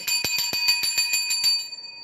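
A small bell rings in a quick run of about nine bright, evenly spaced strikes, each leaving a clear metallic ring that fades after the last hit.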